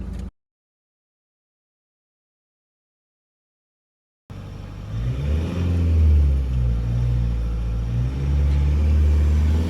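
Mahindra XUV500 and Hyundai Creta 1.6 diesel launching off the line in a drag race: after about four seconds of silence, loud engine rumble and revving surge in and hold steady, close by, with no talk.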